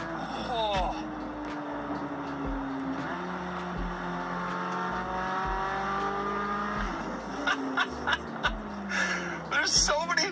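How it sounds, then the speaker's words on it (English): A Chevrolet C8 Corvette Z06 with a flat-plane crank V8 revs loud and close, its pitch climbing and falling through sustained sweeps, with brief tire chirps near the end. "Flat plane crank V8 sounds absolutely incredible."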